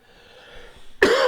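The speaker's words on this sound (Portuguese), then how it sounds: "aí tosse, pigarrinho, né?" A man giving a church Bible lesson lets out one sharp, loud cough and throat clearing close to the microphone after a second of quiet room tone.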